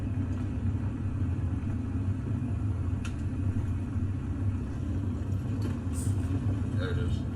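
A car engine in shaky found footage gives a loud, continuous low rumble that drones on without a break, with faint scattered noises over the top.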